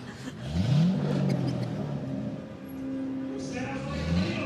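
A V8 car engine revs outdoors at a veterans' day event in Birmingham, a rising and falling roar with crowd noise and some talk underneath, swelling twice over a few seconds.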